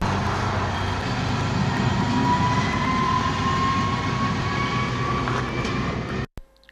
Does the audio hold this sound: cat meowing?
no